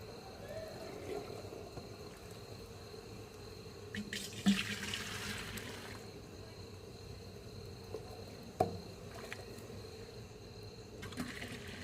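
Water is poured off a vessel of soaking sesame seeds in a short splashing burst, followed by softer trickles and a clink, with cricket-like chirping and faint voices in the background.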